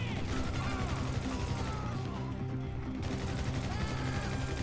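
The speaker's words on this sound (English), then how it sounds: "I don't know where this guy's shooting." Dense, steady gunfire in GTA V on PC, a continuous clatter of shots with mechanical rattling throughout, moderately loud and slightly distant, with a faint voice partly underneath.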